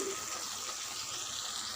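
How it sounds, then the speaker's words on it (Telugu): Water poured into an eggplant and tomato curry to make gravy, a steady broadband gush that runs continuously and fairly close for the whole short stretch, with no talking over it. "గ్రేవీ కోసం కొన్ని వాటర్ పోసుకోవాలి"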